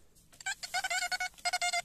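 XP Deus metal detector giving a choppy, broken signal: rapid bursts of bright electronic beeps in uneven pulses, loud and close, with no talk.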